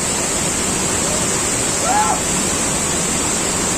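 A steady, loud roar of falling water fills the clip without pause, with a brief faint voice-like tone near the middle.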